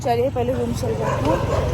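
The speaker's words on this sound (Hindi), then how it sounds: "अबे ये कुत्ता क्या इतना भौंक रहे हैं?" Dogs bark loudly on a street in Kanpur, with several yipping, whimpering barks close by, heard under someone speaking.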